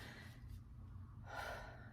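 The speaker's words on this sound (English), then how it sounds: "I'm gonna need you to do, what I just did, and that's I'm gonna need you to breathe" A speaker takes one deep breath close to the microphone, a soft airy inhale that swells into a louder gasp near the end, alone without speech.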